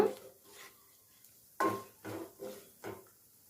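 Cashews being fried in ghee for poha payasam, heard as a few close, sharp clinks and scrapes of a spoon against a metal pan, with quiet pauses between them and no talking.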